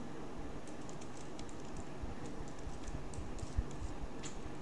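Typing on a computer keyboard while entering code into GNU Octave: quick irregular clusters of soft key clicks, close and fairly quiet over a faint steady background hum, with no talking.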